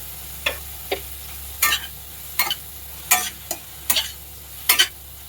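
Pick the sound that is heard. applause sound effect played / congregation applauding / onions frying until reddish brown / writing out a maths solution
onions frying until reddish brown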